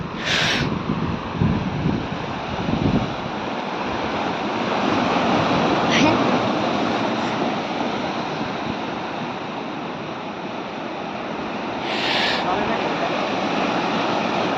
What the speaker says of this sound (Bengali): দেখেন এর চেয়ে বড় ঢেউ আসতে পারে ভাই।